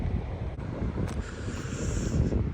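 Strong wind blowing across a chilly Lake Michigan beachfront in the Chicago suburbs, a steady loud buffeting rush battering the microphone with low rumbling gusts throughout.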